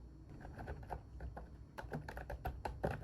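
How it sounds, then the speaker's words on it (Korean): Steady close-up typing on a wireless retro-style keyboard with round keycaps, a quick run of soft clacking keystrokes, faster toward the end, with no talking. "레트로 키보드는 처음 사용해보는데 생각보다 누르는 게 되게 재밌다."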